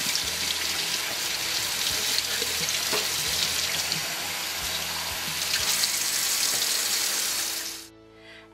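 Tap water runs steadily over green peppers in a sink as their seeds are rinsed out, a close, continuous splashing that cuts off abruptly when the faucet is turned off near the end, with no talking.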